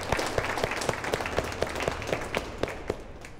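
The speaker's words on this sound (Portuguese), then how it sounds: "uma salva de palmas," A group of children applauding indoors, loud rapid clapping with a steady rhythmic beat of sharper unison claps running through the clatter from start to finish.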